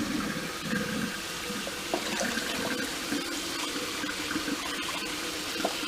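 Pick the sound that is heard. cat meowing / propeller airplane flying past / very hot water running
very hot water running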